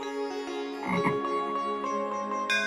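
Frog croaking in a comedy show, a few harmonic croaks with a louder burst near the middle over steady tonal background, fairly close and moderately loud, no talk.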